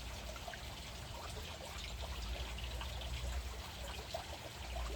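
Water trickling and pouring into a small 9 ml test tube for a pool chlorine test, a steady soft splashing stream heard close up with no talk.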